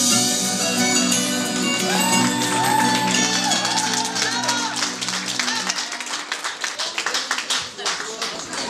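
A crowd breaks into applause, dense clapping building and continuing with sharp irregular claps over lingering music.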